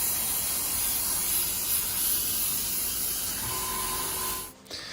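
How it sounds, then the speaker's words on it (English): A spray gun spraying colored cocoa butter onto chocolate Easter egg molds, a steady loud airy hiss lasting several seconds before it cuts off abruptly near the end. "Make sure there's color coming out of your gun before it starts spraying."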